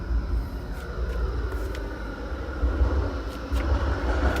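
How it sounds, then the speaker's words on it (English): A tram rolls past in a nearby city street, a steady low rumble holding throughout with slight swells, moderately loud and with no voices over it. "that's the noise of the tram that goes past in that street just there"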